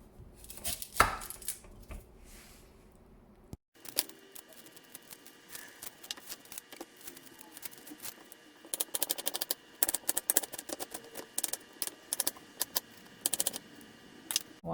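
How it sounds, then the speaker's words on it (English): A knife chops an onion rapidly on a cutting board, with quick irregular taps building into steady bursts of close, crisp chopping. "I'm going to cut and chop the onion."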